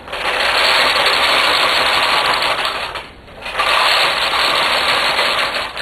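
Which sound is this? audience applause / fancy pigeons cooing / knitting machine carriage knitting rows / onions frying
knitting machine carriage knitting rows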